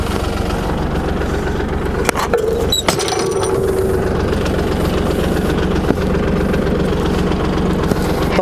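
A tractor pulling a rotary tiller with a trailing roller during spring field tilling: loud, steady engine drone throughout, with a couple of brief knocks near the start.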